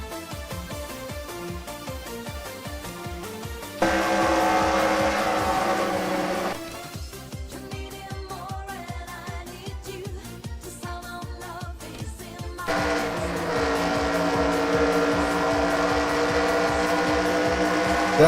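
Stock car engines from NASCAR Racing 2003 drone in a steady, buzzy roar at an oval track, with pitch rising and falling as cars pass. The sound swells louder in two stretches and plays alone, without talk.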